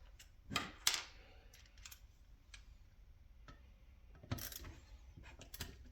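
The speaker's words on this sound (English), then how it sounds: "Loosen off, screw at the bottom." A screw is loosened on the handguard of a Sterling Arms R9 rifle, giving sparse faint metallic ticks and small clicks with a few sharper scrapes and clacks in a quiet close setting.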